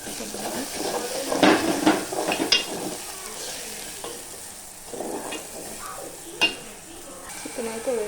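Chicken pieces fry in a pan for a Telugu-style chicken curry with garam masala and coriander powder, a soft sizzle broken by bursts of stirring and a few clinks of a utensil against the pan.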